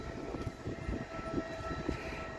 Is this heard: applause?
no